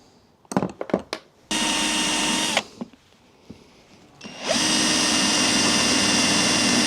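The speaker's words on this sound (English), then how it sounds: "My only option is to through drill it now." Power drill boring through a stuck bolt on a Jaguar XK8, starting with a few clicks and short bursts, then a sustained loud whirring run, a pause with knocks, and a second long steady drilling spell.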